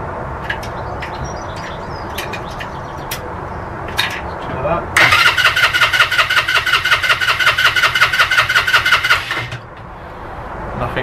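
A Suzuki GN125 motorcycle sits in neutral on its stand and its starter turns the engine over in a steady, rapid chugging churn for several seconds, then cuts out without catching, with scattered clicks before it.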